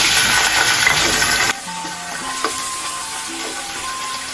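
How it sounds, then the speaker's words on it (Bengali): Garlic paste and ginger fry in a hot pan of oil for pulao, first with a loud, bright sizzle, which then drops suddenly to a quieter crackle with light stirring clinks. "দেড় চামিচ রসুন বাটা দেড় চামিচ আদা পাতা এগুলো ভালো করে ভেজে নেব"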